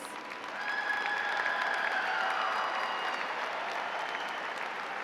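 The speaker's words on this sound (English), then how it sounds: "Let's give a round of applause for the master's degree recipients." A fairly distant crowd applauds master's degree recipients at a university education convocation, swelling into a dense, even wash of clapping that holds steady, with a faint tone ringing through early on.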